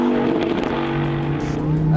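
Naturally aspirated V10 of a Lamborghini Huracan EVO RWD droning loud and steady from inside the car, with a voice talking over the engine note.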